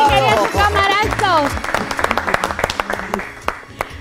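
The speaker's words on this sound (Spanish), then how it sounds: "Un aplauso para Máximo, que está haciendo" A studio audience on a Spanish-language TV show applauds a guest with scattered, uneven clapping that thins out, while a loud voice speaks over the start.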